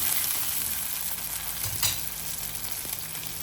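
A single chopped tomato sautéing in a frying pan for a Tamil kuzhambu gives a steady, close, even sizzle throughout, with a brief stir partway through and no voices.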